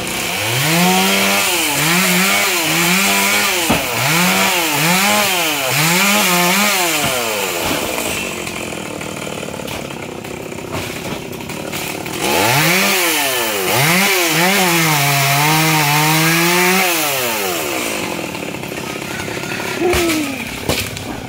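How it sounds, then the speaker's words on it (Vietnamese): Chainsaw cutting a star apple tree, operated by someone standing on a house roof; loud engine with repeated rising-falling revs in two long bursts separated by a steadier idle stretch, close and continuous. "Anh đứng ở trên nóc nhà anh cưa luôn kìa."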